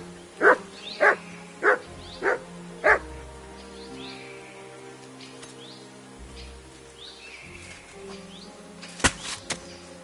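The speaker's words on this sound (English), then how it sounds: "Good dog, Max." Dog barking in the video game Kingdom Come: Deliverance II: five sharp barks in an even rhythm, then two or three more later, set against a quiet background with soft bird calls and low tones.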